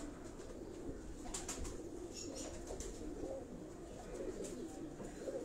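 Pigeons of various breeds cooing softly in a rooftop breeding setup in Karachi, with faint wing flutters and a low steady background; the birds sound fairly close but quiet, with no talk.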